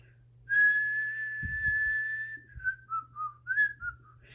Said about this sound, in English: My birds and I whistle back and forth all the time.